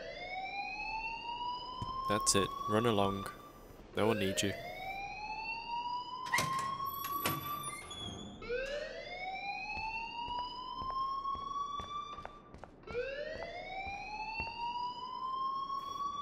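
A repeating rising electronic alarm wail from the Life Is Strange video game, sounding in cycles of a few seconds each, loud and continuous, with a voice talking over it and sharp clicks in between.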